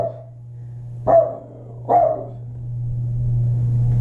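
A dog gives two sharp, close barks about a second apart over a steady low hum.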